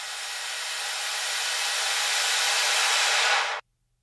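A reversed sweep riser effect for electronic music swells as a broad, hissing noise wash for about three and a half seconds, growing slightly louder before cutting off abruptly into silence, with no voices.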